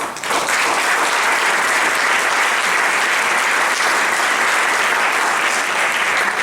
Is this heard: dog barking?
no